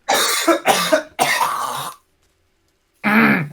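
A person close to the mic gives a run of harsh, rasping coughs and throat clearing in three quick bursts, then a pause of silence before one more cough.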